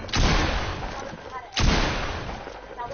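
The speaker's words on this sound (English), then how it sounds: "they were both shooting at me" Enemy gunfire in a shooter video game, two loud, harsh bursts about one and a half seconds apart, each trailing off into rumbling noise.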